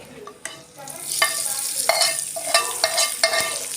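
Spoon scraping and stirring in a pan as a hot tempering is mixed into ridge gourd chutney, with a few sharp clinks and a soft sizzle underneath; no voices.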